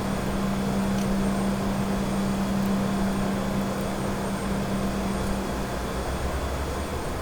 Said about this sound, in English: Alright, so let's just shut down the engines.